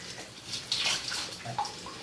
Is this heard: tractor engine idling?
no